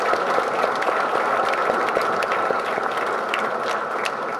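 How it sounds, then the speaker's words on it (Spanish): A crowd at a local public gathering with the mayor present applauds steadily, dense clapping filling the whole stretch at an even, fairly loud level with no pauses. "aplaudámonos todos"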